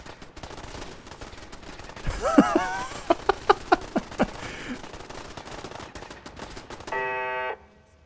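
Fallout 4 gunfire as the companion Piper shoots at a pile of corpses: a burst of rapid, loud, evenly spaced shots, then a steady electronic game tone near the end.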